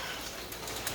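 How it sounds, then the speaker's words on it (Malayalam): A bird calls softly against a steady hiss of background noise, brief and fairly faint. "കിളി"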